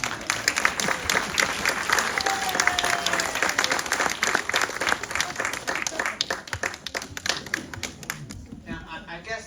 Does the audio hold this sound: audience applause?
yes